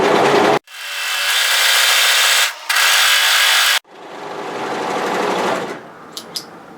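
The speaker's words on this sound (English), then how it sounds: "then I'm going to sew a double line of stitching with my plain sewing machine" A plain domestic sewing machine runs a double line of stitching along the hem of a sweatshirt hoodie dress. Three close, loud, whirring runs are heard, with brief pauses between them, and a couple of small clicks at the end.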